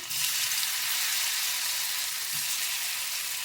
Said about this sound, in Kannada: ಈಗ ಎಣ್ಣೆ ಬಿಸಿಯಾಗಿದೆ. ಈಗ ನಾವು ಮಾಡ್ಕೊಂಡಿರೋ ಪನ್ನೀರ್ನ ಸೇರಿಸ್ಕೊಳ್ಳೋಣ.